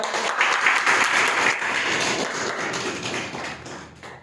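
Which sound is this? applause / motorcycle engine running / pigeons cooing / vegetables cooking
applause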